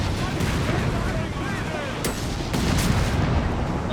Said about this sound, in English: Both sides calling in artillery by airborne option in a sense.